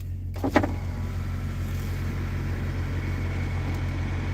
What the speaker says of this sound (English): Roll that window down.